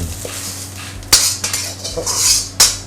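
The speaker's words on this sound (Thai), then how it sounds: "เราก็ตักใส่จาน" A metal spatula scrapes and clinks against a pan as a stir-fry of Colubrina asiatica greens with shrimp, egg and garlic is scooped onto a plate, giving a few sharp loud scrapes and clanks with quieter shuffling between them.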